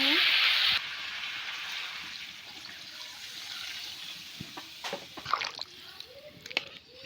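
Curry with green banana and mirka fish frying in a pan, a loud hiss at first that fades to a low simmer, with scattered clinks and scrapes of stirring near the end.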